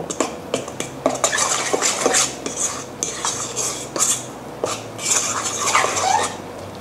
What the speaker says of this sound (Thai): หลังจากนั้นนะคะก็คนส่วนผสมให้เข้ากัน คือ คนให้พอ เข้ากันนะคะ